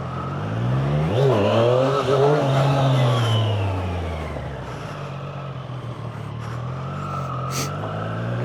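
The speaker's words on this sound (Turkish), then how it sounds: "Bir bap diye bir ses yapıyor motor." A motorcycle engine in track mode revs hard, sweeping up in a loud, close roar and then settling back to a lower rumble as the throttle eases.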